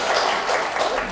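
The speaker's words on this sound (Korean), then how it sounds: "다시 한번 박수 부탁드리겠습니다." Applause from a seated audience at a Korean welfare forum panel discussion, dense steady clapping filling the whole short moment.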